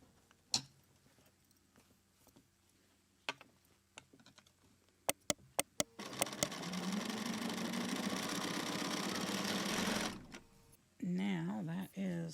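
Scattered clicks and taps come first, then a sewing machine runs steadily for about four seconds, joining rows of scrappy Drunkard's Path quilt blocks, before stopping into quieter handling.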